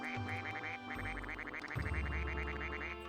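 Classic Mac operating system duck-quack alert sound plays several times in quick succession, bright nasal quacks in rhythmic runs over a low electronic background hum.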